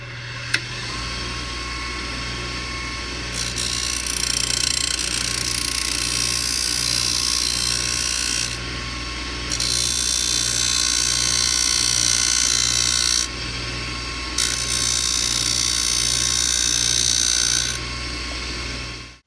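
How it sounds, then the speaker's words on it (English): A grinding wheel grinds sharp fret spike edges on a cigar box guitar neck, a loud, steady whine that runs for several seconds, cuts out briefly, then resumes twice over a low motor hum. "That is the grinding wheel. And I grind off these edges."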